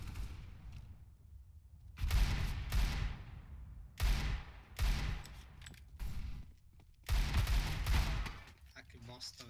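Video game gunfire comes in several loud bursts of rapid shots separated by short pauses, with a player's voice talking between and over them.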